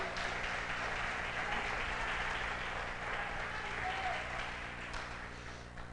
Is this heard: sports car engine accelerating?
no